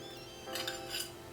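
Kitchen utensils clinking against a dish while salad is tossed, a few faint, light metallic taps over steady background hum, with no talking.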